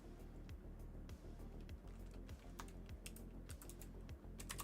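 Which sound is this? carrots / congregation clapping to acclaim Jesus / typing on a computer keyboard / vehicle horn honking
typing on a computer keyboard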